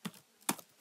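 Three sparse keystrokes on a computer keyboard while writing C# code, soft, close clicks spaced irregularly with quiet gaps between, no talking.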